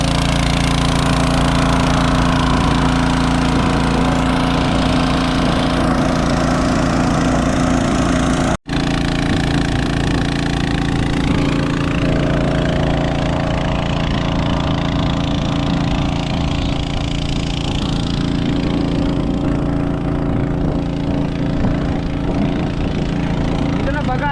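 A loud engine-driven water pump runs continuously, draining a pond, with a steady, rumbling mechanical drone, close by and unbroken apart from one brief dropout.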